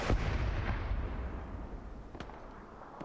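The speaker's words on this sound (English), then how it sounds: "we see that bombing run coming on in" In a 40 vs 40 online war game match, a bombing run thunders with booming explosions and rumbling blasts, a sharp crack partway through, dense and continuous.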